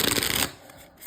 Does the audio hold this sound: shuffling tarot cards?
yes